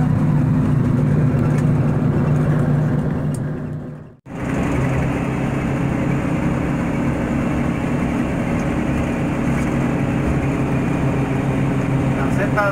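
Diesel 8V71 engine of a 1982 DINA truck droning low and steady on a mountain road, a constant heavy rumble with a brief dropout partway through, the noise level holding close and loud throughout.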